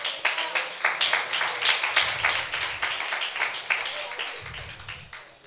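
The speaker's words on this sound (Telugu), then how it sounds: "ఒకసారి చప్పట్లు కొట్టింది దేవునికి." A church congregation at a Sunday service claps together in a fast, steady rhythm, many hands beating in unison for several seconds, with faint voices mixed in.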